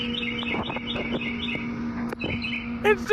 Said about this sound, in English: One of the birds you can hear is a mockingbird.